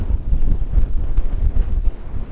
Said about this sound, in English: we're in high wind right now